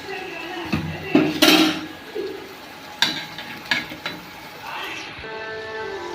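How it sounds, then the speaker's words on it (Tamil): Onion paste sautéing in a pan for a fish curry, with sporadic scrapes and knocks of a utensil against the pan over a soft background sizzle, heard close with pauses between strokes. "இப்போ வெங்காய பேஸ்ட் போட்டு நல்லா வதக்கிக்கலாம்"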